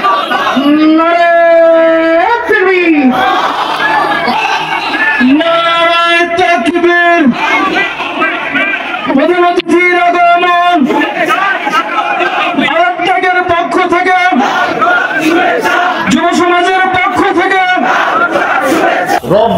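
A large crowd at an outdoor Islamic religious gathering roars back in unison to a takbir call, repeated loud chanted shouts in rhythmic waves with a leading voice over amplified echoing sound.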